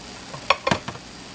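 An omelette cooking in a pan gives a few short, close sizzling crackles and scrapes over a quiet background, the brief bursts clustered in the first second.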